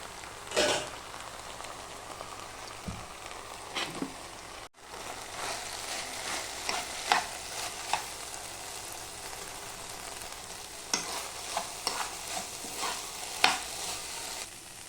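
Raw plantain thoran, a vegetable stir-fry, is stirred in a hot pan with a low, steady sizzle, broken by several sharp scraping strokes of the spoon over about fifteen seconds, with no talk.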